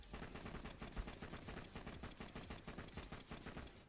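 Rapid video game gunfire from a high fire rate gun in Snowbound, a fast continuous stream of evenly spaced shots for several seconds, fairly faint in the mix, without speech.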